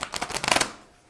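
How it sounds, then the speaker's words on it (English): Tarot cards riffle-shuffled in a quick burst of crisp, rapid flutters lasting under a second, then falling silent; close and fairly quiet. "see if I can shuffle these better."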